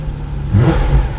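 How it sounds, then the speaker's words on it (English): A Porsche engine rumbles low and steady at idle, heard up close from inside the car with a slight swell in the middle. "you can feel the vibration of the engine behind you"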